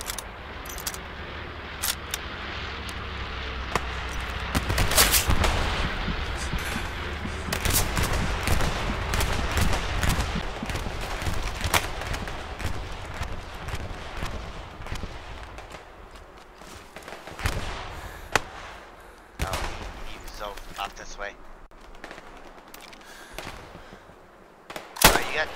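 Gunfire in the Hell Let Loose video game, scattered rifle and automatic shots of varying distance crackling through a dense battlefield background, with occasional louder nearby reports.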